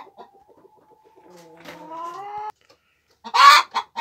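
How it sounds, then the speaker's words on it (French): Brooding hens in a coop give low, drawn-out clucks and murmurs, quiet at first and then swelling, ending with a couple of louder sharp squawks up close. "j'ai mes poules qui couvrent"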